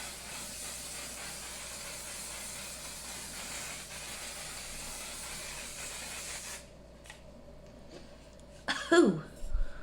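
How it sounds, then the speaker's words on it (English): A Sephora setting spray mist sends out a steady airy hiss held for several seconds, then cuts off, leaving quiet room tone and a few soft handling rustles near the end. "I'm gonna do the spritz."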